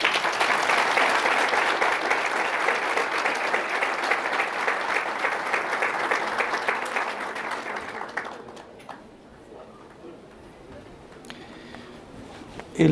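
An audience gives a warm round of applause welcoming a speaker at a lecture on Christian marriage, loud dense clapping for about eight seconds before tapering into a quiet room with faint shuffling.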